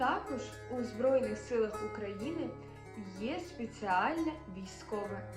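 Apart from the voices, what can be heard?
No everyday noises stand out.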